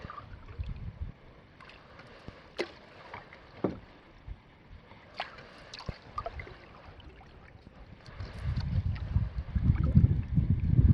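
A solo canoe is paddled across Horse Lake on a quiet September morning in the Boundary Waters, with soft, spaced paddle strokes and drips, then louder water and breeze rush near the end.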